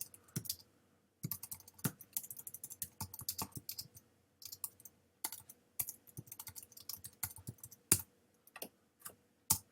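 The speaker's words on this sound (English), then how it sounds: "And so I can type some text." Keys clacking on a computer keyboard while text goes into a word processor, in quick irregular bursts of close, crisp taps with short pauses between runs.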